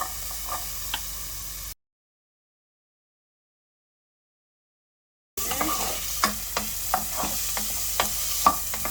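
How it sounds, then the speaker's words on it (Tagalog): Onion frying in a pan for a minced lamb dish with capsicums, a steady sizzle broken by scraping stir strokes. The sound drops out into silence partway through, then returns as the onions brown. "Fry until golden brown."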